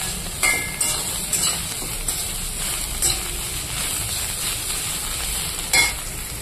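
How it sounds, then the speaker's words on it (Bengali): A spoon stirs Bengali fish curry made with boroli fish in a hot pan, with steady sizzling and frying hiss and occasional scraping clinks throughout. "একটু নাড়াচাড়া করে তারপরে নামিয়ে দেবো"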